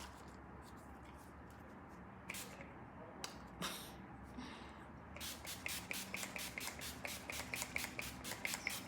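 Makeup setting spray is spritzed onto a face, a rapid series of short, close hissing pumps following a few earlier isolated bursts and soft handling noise.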